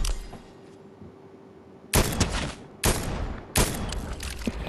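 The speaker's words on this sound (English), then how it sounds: "No, stop shooting me." Loud, close gunfire in the Fortnite video game: a quiet stretch, then three sharp, heavy bursts of shots about a second apart, each trailing into a rumbling echo.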